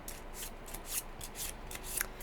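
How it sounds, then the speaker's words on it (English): A deck of recipe cards for the Grove board game being shuffled up close, a string of quick riffling bursts of papery flicks and rubs, fairly quiet, with no talking. "which requires you to shuffle the cards"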